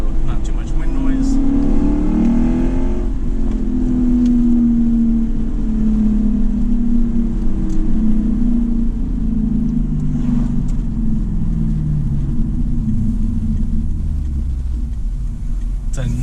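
A 2008 Lexus IS F is driven hard, its engine revving loud and close with a deep rising and falling drone as it accelerates through the gears, with a little wind noise behind.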